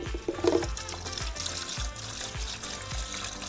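Water pours and trickles from the small spout of a zip-top bucket beside a portable reverse-osmosis system, a steady splashing stream with a few low knocks running throughout.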